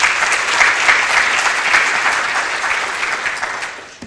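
Audience applause at a diabetes summit presentation, a dense, loud burst of clapping from a crowd that slowly thins and fades over about four seconds.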